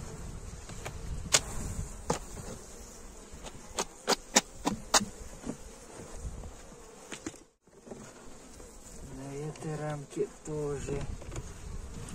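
Honeybees buzz steadily around an opened hive frame during winter inspection, with sharp clicks and handling knocks scattered throughout and someone speaking briefly near the end.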